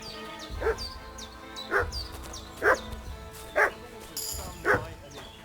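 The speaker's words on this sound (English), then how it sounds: "What's that dog making such a fuss about?" Dog barking in Kingdom Come Deliverance II, a medieval village setting: five loud, evenly spaced barks roughly a second apart, heard over steady game ambience and music.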